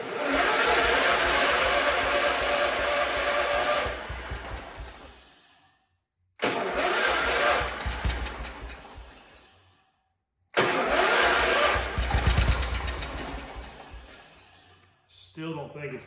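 An old 314H tractor engine is started on ether in three loud cranking and running bursts, each dying away into near silence, with people talking nearby.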